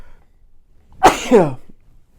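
A single sharp human sneeze, loud and close, bursting out of near silence with a quick intake and explosive release before fading away.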